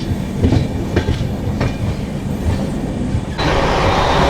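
A Tirupati–Puri Express made of LHB coaches rolls along after leaving Kavali, with a steady loud rumble and rhythmic clickety-clack of wheels over rail joints, then a sudden surge of brighter wind and track noise near the end.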